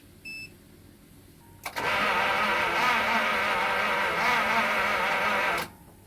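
A 1952 Pontiac Chieftain engine cranks over steadily for about four seconds on a weak battery, a loud continuous churning drone that starts abruptly after a short click and cuts off sharply, with no talking.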